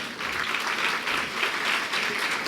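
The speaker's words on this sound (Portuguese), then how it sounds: "Uma salva de palmas" An audience at a lecture on registering carbon credits claps steadily, a dense, even applause that fills the whole stretch with no talking.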